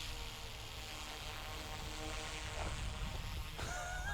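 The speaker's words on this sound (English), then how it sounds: "The next thing we're going to do is hit down on this switch here, and the helicopter should fly in circles on its own." An iconic 1980s radio-controlled toy helicopter circling on its own, giving a steady, continuous motor and rotor whir that holds near and fairly loud throughout, with a few brief higher tonal changes late on.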